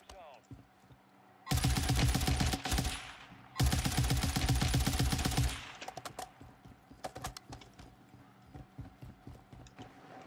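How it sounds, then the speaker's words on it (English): Rapid gunfire in a video game, with the shots aimed at a rock, comes in two loud sustained bursts, then tails off into scattered single shots under faint background sound. "I'm shooting the freaking rock."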